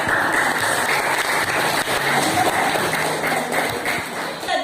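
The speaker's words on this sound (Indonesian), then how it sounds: "Tepuk tangan untuk kelompok 2." Classroom applause for a student group fills the room, a dense, steady wash of many hands clapping loudly and continuously from start to finish.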